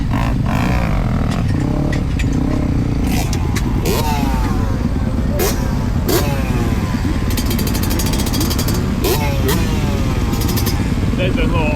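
Motocross bikes lap a practice session at Telford Grange MX, engines revving and whining in repeated rising and falling passes at varying distances, loud and continuous throughout.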